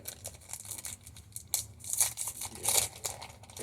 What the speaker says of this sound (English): we're going to open up this pack right here